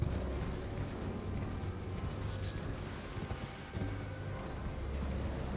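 Horse hooves clip-clop in the Elden Ring video game, a fairly faint, continuous run of hoofbeats blended with game sounds and background noise.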